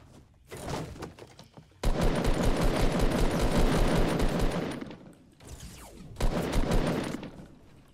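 Rapid automatic gunfire in the video game Fortnite, with one short burst followed by a long sustained rattling volley, then two more bursts, loud and close.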